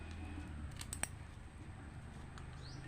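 Scissors snip fresh curry leaves over a prawn cake batter, a few quick, soft close clicks clustered in the first second over a faint room hum, with no talking.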